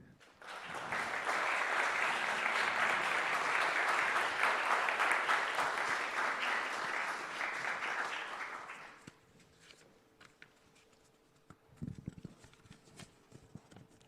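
Sustained audience applause at a business economics debate welcomes a company executive to the stage, steady and fairly distant for about nine seconds before fading into quiet room tone and a few faint knocks.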